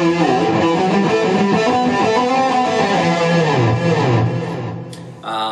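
An electric guitar, a Jackson Adrian Smith San, plays the first part of a solo at full speed with a sustained, distorted lead tone, bending and sliding notes, loud and close, ending with a brief scrape.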